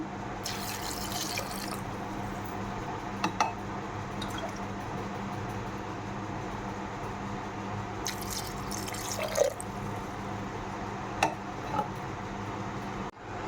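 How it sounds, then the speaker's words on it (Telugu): A steady stream of water runs and splashes into a metal pressure cooker of fresh field beans, continuous and fairly close, with occasional small clinks and drips. "అందులో 2 glasses వాటర్ యాడ్ చేసుకుంటున్నా."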